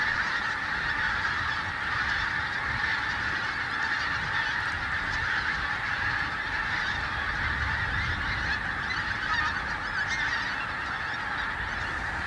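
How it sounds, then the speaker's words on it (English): A dense chorus of pink-footed geese honking continuously, many birds calling at once as the flock flies overhead, steady and fairly distant with no other sounds. "you may be able to hear some geese flying over"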